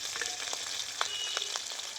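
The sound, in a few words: small crabs frying in a pan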